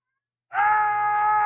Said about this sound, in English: my cat wants to come inside